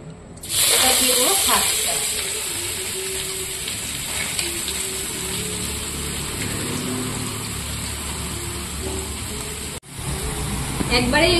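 Bay leaf, whole dried chilli and radhuni hitting hot oil with an abrupt loud hiss that settles into a steady, bright sizzle, briefly cut and resumed near the end.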